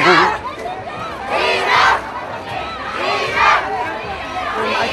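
Crowd of students chanting slogans in loud, rhythmic waves of massed voices at an HIV/AIDS awareness rally in Dhangadhi, with swells recurring every second or two and constant crowd noise underneath.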